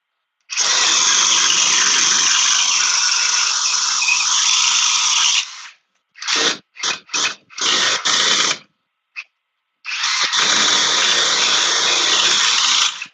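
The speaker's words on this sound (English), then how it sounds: "Speed 2 in drill mode. Let's see this thing plow through here." A Milwaukee M12 stubby power tool in drill mode at speed 2 drilling into wood, probably with a dull bit: a long loud whine near the mic, then several short stuttering bursts, then a final sustained run, with no talking.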